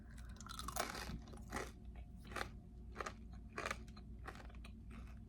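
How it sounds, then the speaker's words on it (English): Baked cottage cheese crackers crunched between the teeth, several loud, crisp bites and chews spaced about a second apart, close to the mouth with no talking. "Let's see if they crunch."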